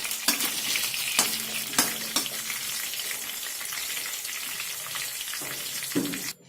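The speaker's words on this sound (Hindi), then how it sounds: "इसमें खड़े गरम मसाला डाल के चला के" Whole garam masala is stirred into a frying paste for lauki kofta curry, giving a steady loud sizzle throughout, with a few sharp scrapes and clinks of the spoon against the pan and no voices.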